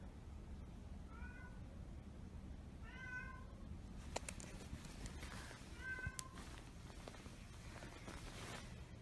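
A cat meows at night indoors, a few distinct drawn-out calls spaced across the stretch, fairly faint and close against a steady background hiss with light shuffling noises.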